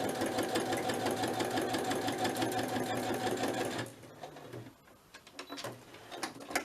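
A domestic sewing machine stitches fabric in a fast, even mechanical rattle for about four seconds, close and fairly loud, then stops, leaving soft handling clicks and rustles.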